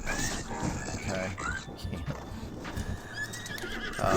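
A horse in a video game lets out a whinny amid clip-clopping hooves and steady game noise, heard up close for a few seconds.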